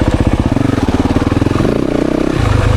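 A 2024 Yamaha YZ 450FX dirt bike engine chugs at low RPM on a woods trail, a loud close pulsing thump that rises slightly in pitch partway through.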